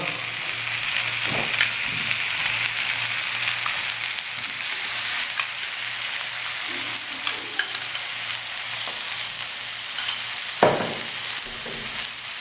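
Loud, steady sizzling of tandoori tawa chicken masala frying on a hot tawa, with yogurt added and stirred in, the hiss continuous and close with a few scraping knocks throughout.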